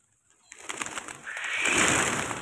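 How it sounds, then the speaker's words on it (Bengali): A flock of pigeons coos and rustles at close range in the morning, growing into a steady, busy wash of bird sound. "দেখেন কত কবুতর"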